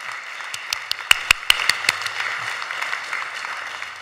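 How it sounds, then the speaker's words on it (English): An audience at a city budget hearing gives a short round of scattered applause, a few distinct sharp claps over a thin wash of clapping and room noise. "Let's have a round of applause for our Guild."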